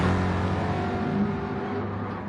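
Ford touring car engines rev in a racing game at Laguna Seca, giving a steady, close, droning engine whine with a slight drop in pitch near the end, with no voices.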